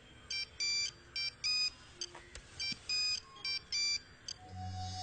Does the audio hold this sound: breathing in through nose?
no